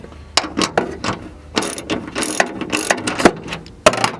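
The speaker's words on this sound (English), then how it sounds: "Alright, screwing in the bolt." Ratchet clicking repeatedly while driving a bolt into a Nissan 240SX seat mount, with quick bursts of pawl clicks and short pauses, close and fairly loud.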